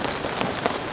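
Heavy rain drums steadily on a tarp over a camp shelter during a stormy night with strong winds, a dense, close, continuous patter with no voices.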